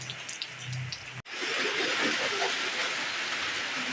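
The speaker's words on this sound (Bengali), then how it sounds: "তো বন্ধুরা কাজ করতে করতে বৃষ্টি এসে পড়ছে" Rain falling outdoors under dark clouds at an unseasonal time, a steady broad hiss of downpour that sets in after a short break and continues evenly, fairly loud and close.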